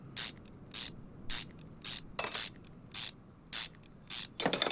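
A ratchet wrench zips in short bursts while removing exhaust manifold bolts in Car Mechanic Simulator 2021, about eight evenly spaced clicking runs close up against a quiet background.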